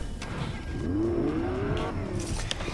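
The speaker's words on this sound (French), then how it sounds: "J'entends la voiture" A car engine in the Fortnite video game hums and rises steadily in pitch as it accelerates, moderately loud and alone without talk.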